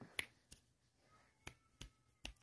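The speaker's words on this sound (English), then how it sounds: "You are way too young to know how to snap your fingers" Five crisp finger snaps ring out, spaced irregularly across a couple of seconds, each a sharp isolated click against a quiet room with nothing else sounding.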